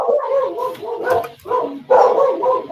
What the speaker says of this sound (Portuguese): O cachorro da minha vizinha não tá me ajudando